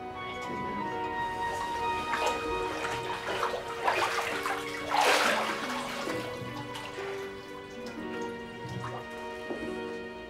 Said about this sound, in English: She was taken to bathe in the water from Bernadette's spring.